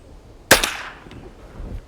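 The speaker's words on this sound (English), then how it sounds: "Shoot 1 more at the black target and try and hold right on it." A single sharp gunshot cracks during outdoor firearm training in the Alaskan wild, aimed at a black target, followed by a short fading echo.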